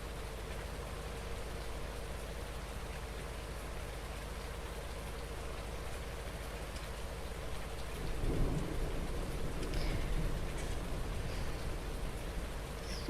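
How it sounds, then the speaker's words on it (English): Steady rain falling during a storm on a farm, with a low rumble of thunder rolling in partway through and swelling briefly before settling back under the rain. "Thunder."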